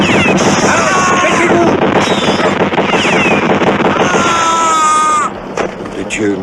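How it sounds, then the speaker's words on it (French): Gunfire rings out from a boat in a chaotic, loud battle scene, with rapid bursts of shots and rumbling blasts over shouting voices and a high whining tone. "les coups de feu viennent du bateau"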